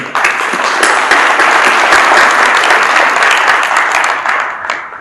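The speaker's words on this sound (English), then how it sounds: "So I think a big round of applause for them, right?" A crowd applauds loudly and steadily for about five seconds, dense clapping that tapers off at the end.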